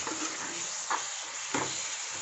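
A spatula stirs spinach (palakura) in a hot pan over a steady sizzle, with a few distinct scraping strokes standing out, close and moderately loud.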